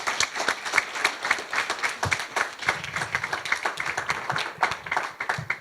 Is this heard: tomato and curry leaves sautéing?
no